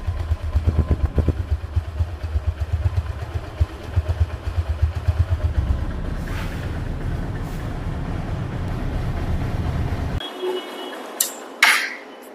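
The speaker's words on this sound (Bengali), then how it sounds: "তো রানিং অবস্থায় গাড়িটির সাউন্ড শুনুন" A Honda Hornet 160 motorcycle engine runs with a steady chugging putter, close by, then cuts out, leaving a few faint clicks and knocks.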